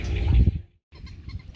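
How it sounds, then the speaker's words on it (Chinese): Wild ducks call from the reeds of the Dongping Lake wetland, giving two close, fairly loud bursts of coarse, throaty calling separated by a short silence. "看见那芦苇丛中的野鸭子了吗？"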